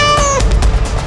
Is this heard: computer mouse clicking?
no